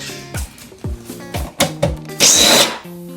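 A power tool works Torx bolts loose from the exhaust of a Porsche 997 during an X-pipe install, sounding as a series of short, sharp whirring bursts close by and ending in one longer, louder run.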